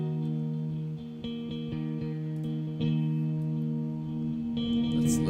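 Guitar through a reverb effect with diffusion turned off, picked notes and chords ringing out with distinct repeating echoes over a sustained low tone, fairly quiet and without speech.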